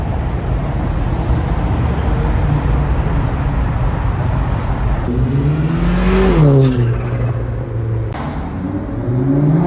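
A Nissan GT-R rolls into a car meet, its engine note rising and falling as it revs and passes close by, heard over a steady background of other idling cars and crowd noise.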